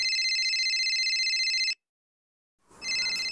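A mobile phone ringtone plays loud and close as a bright, steady electronic tone, cuts off abruptly, then resumes after about a second of silence.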